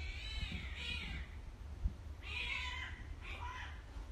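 A cat meows repeatedly, drawn-out yowling cries a short distance away, sounding as if from outdoors, over a low steady background rumble.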